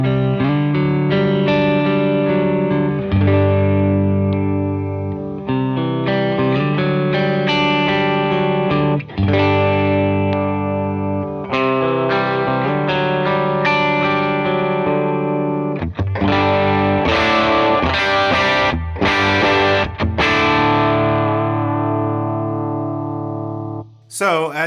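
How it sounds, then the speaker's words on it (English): Clean electric guitar tone from the neck and middle pickups, run through an Empress compressor, a Universal Audio Golden preamp and a TONEX, on a worship pedalboard: a loud, sustained passage of ringing chords and picked notes, played alone. "first things first, I'll just give you the clean tone, which is going to be this Empress compressor,"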